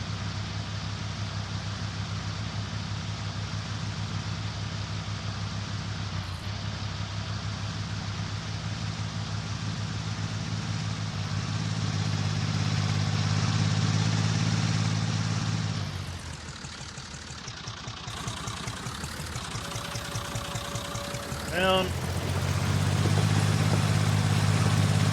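Tractor engine in Farming Simulator 19, a Polish classic-pack machine sounding somewhat underpowered: a steady, low droning idle with a brief dip and revving change partway through, continuous and close, no talk.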